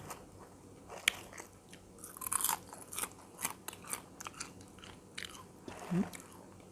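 Crispy baked fingerroot (krachai) being bitten and chewed close up, with repeated dry crunches scattered across a few seconds and no talking.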